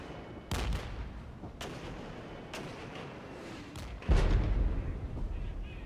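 Gunfire and artillery booms in the RTS video game Regiments: Winds of Change: a handful of sharp, irregularly spaced cracks and thumps over a constant battlefield rumble, the last burst heaviest.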